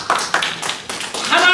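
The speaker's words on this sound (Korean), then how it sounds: "우리 그런 삼위일체 하나님께 영광의 박수합니다" A church congregation applauds in a series of crisp claps that rise and settle in waves, close and lively, with a pastor's voice speaking over part of it.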